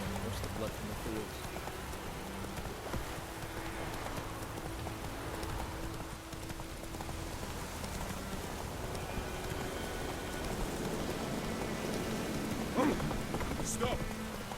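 Steady rain patters across the open fields of The Witcher 3: Wild Hunt, a constant wash of drops with horse hooves clopping along beneath it and a brief louder splash near the end.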